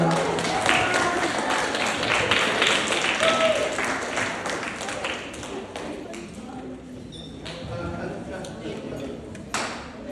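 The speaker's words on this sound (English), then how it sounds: "Clap it up for Miss Passage" Classroom audience of children and adults clapping for a guest presenter, a steady broad patter of applause filling the room, mixed with chatter and voices.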